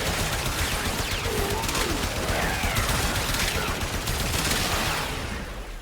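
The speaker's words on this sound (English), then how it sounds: "Let's try the incarnate form, and it's basically becomes an automatic shotgun." Rapid automatic shotgun fire from the Bratton Prime in its incarnate form in Warframe: a dense, unbroken stream of loud shots for nearly six seconds, tailing off slightly at the end.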